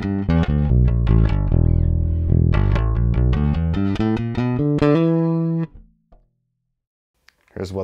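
Bass guitar played through its P pickup, a run of plucked notes with strong low harmonics for about five and a half seconds before fading to near silence, then a brief final note.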